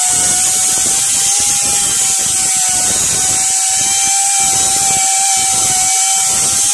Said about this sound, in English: it had a big seam down the inside of it that I needed to grind off.